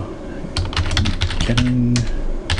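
Close clicking keystrokes on a computer keyboard as a title is typed in, quick irregular taps running under a man's brief speech.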